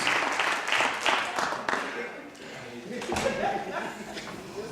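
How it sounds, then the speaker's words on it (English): Audience applause at an East Cleveland teen poetry and artistic showcase, a dense wash of clapping rising and falling in waves across the room, with some crowd voices mixed underneath. "Start clapping, make a noise."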